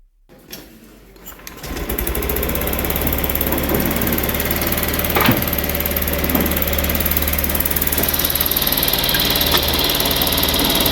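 A Honda Grazia BS6 scooter with a worn engine block fires up on the self-starter after a brief crank, then settles into a loud, steady, close idle with a fast rattling pulse.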